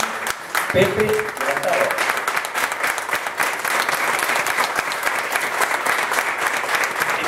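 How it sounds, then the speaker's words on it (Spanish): Audience applause at a book-day celebration, steady dense clapping from many hands sustained for about seven seconds, with a voice briefly speaking over it near the start. "Este fuerte aplauso va para vosotros"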